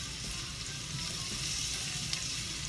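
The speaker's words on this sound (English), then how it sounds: "And we're going to saute that for about 3 minutes." Cardamom and turmeric sauté in a hot pan with a steady, close crackling sizzle that holds even throughout, with no talking.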